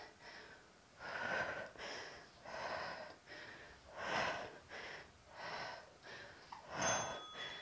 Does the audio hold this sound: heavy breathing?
yes